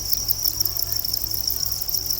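Crickets at a cricket farm's egg-laying trays of finely chopped coconut husk, chirping continuously in a dense, steady high-pitched trill with no voices.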